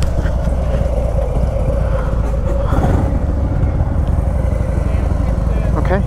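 A Harley-Davidson Iron 883 motorcycle engine runs with a steady, loud, close rumble and wind noise, and voices talk briefly over it.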